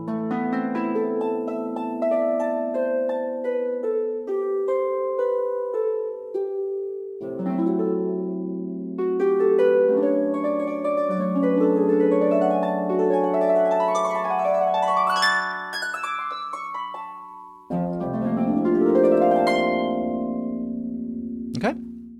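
Sampled harp plucks ripple in ascending arpeggios and rolling glissandi, clear and resonant, with notes ringing over one another; no voices.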